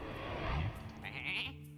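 Sheep bleats from the Hearthstone card game, a wavering animal cry followed by a brighter second bleat, loud and close with no talking.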